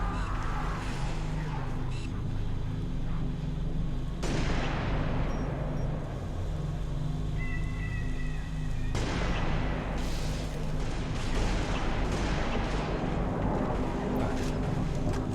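Rapid, heavy sniper rifle shots and explosive booms from Halo CE combat, loud and continuous with dense battle noise throughout, including two sharp blasts that stand out.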